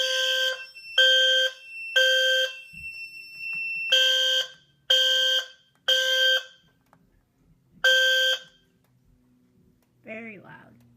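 Fire alarm horn from a system test with a BG8 pull station, sounding in loud repeated bursts with pauses between, followed by a brief voice at the end.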